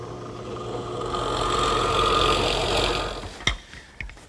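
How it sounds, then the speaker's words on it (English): A half-inch Forstner bit bores holes about half an inch deep for spindles in an umbrella stand, making a steady whirring drill drone that swells and then cuts off, followed by a couple of sharp knocks. "I'm using a ½ inch Forstner bit, and the holes have to be about a ½ inch deep"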